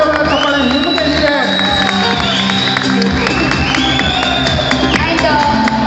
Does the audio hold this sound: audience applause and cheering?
yes